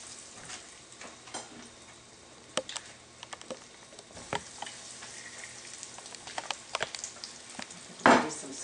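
Eggplant slices sizzling in heated oil and butter in a pan, a steady soft frying hiss with scattered pops and ticks, plus a sharp clatter near the end.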